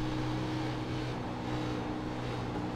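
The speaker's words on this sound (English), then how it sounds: "You hear him feathering that throttle, trying to keep that car from getting up into that wall." A stock race car at Chicagoland Speedway runs with its engine note wavering slightly as the driver feathers the throttle near the wall, a continuous loud drone without voices.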